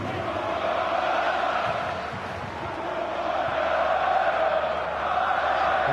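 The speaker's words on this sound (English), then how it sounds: "The crowd aren't happy." A dense, steady roar from a football stadium crowd, displeased after a foul decision during a match involving Kevin De Bruyne. The noise swells slightly, with a commentator's voice faintly present.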